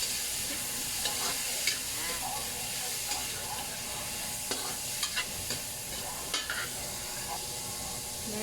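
Vegetables stir-frying with soy sauce in a pan for pancit Cabagan, with a steady sizzle and hiss under scattered scraping and clinks of a utensil stirring through the whole stretch.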